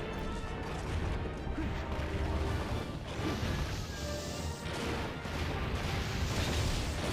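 Explosion beams fired by a monster in Monster Hunter 4 Ultimate, a dense roaring barrage of crashing, rumbling blasts that runs continuously and loudly, swelling and dipping without a break and with no voices.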